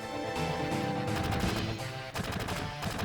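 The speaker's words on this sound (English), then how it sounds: "There's gunfire noises, and Barrett's like, fuck that!" Dense, continuous bursts of gunfire crackle amid a loud, busy soundscape of explosions and music in Final Fantasy VII, with no break in the noise.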